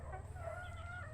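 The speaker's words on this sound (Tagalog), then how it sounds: "Pasilip ko na lang po ulit kasi sa mga natitira nating brood stag at saka brood bull stag." Brood stag gamecocks make soft, faint clucking and warbling calls over a low background hum, with no talking.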